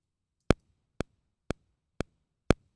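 Five crisp Pro Tools metronome clicks at a steady even tempo, the first beat of the measure slightly louder than the rest, with faint low hum between them.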